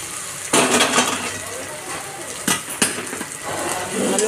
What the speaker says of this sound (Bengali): এবার দিয়ে দিলাম ভাজা পটল আলুটা